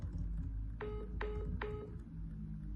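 A phone line drops after the caller hangs up, giving three short, evenly spaced beeps of a disconnect tone over a faint background hum, with no talking.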